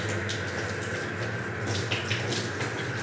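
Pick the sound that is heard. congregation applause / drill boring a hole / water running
water running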